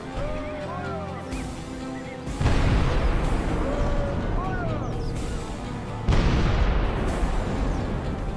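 Artillery volleys fire in the Medieval 2 Total War video game, two heavy booming blasts a few seconds apart over a dense battlefield rumble, with voice-like sounds in the game mix.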